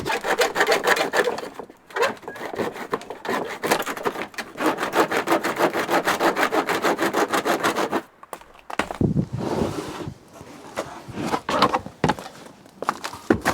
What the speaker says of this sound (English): Now, I've never cut this before, but apparently it's pretty easy to do just using a handsaw.